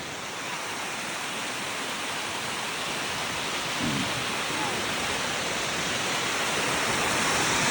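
Water rushes steadily at a dam crossing on the way to a mountain in San Pedro, Sta. Elena, Camarines Norte, a loud continuous roar that fills the whole clip, with no pause.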